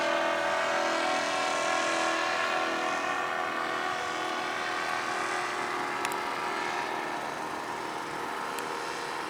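An RC model airplane flies over a sandy beach in Tak province, Thailand, its engine making a steady, continuous drone that holds at a fairly even level throughout, with no talking.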